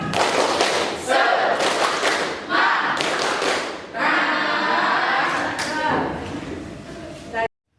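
A class of students in a school lesson on atomic theory doing a rhythmic spirit clap, loud group claps and thumps in bursts mixed with chanting voices, ending abruptly.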